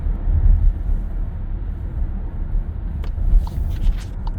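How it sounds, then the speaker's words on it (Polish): The 1.5 MHEV engine of a Skoda Kodiaq drones steadily from inside the cabin after a downshift in S mode, a loud low hum that swells slightly as the revs rise. "Obroty od razu wzrastają. Redukcja biegu 1."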